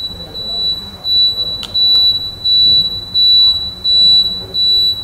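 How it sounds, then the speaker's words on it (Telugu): The indicator buzzer on a Suzuki Gixxer SF 150 motorcycle beeps in a steady rhythm of short, sharp, high electronic pulses, loud and close, with nothing else heard. "Indicator buzzer sound."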